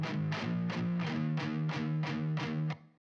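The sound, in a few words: reverb effect on amp-sim rock guitar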